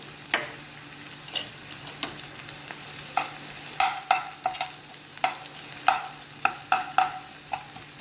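Garlic fries in oil beside onions pushed to the sides of a pan, with a soft continuous sizzle broken by frequent scraping stirs and utensil knocks, close and moderately loud.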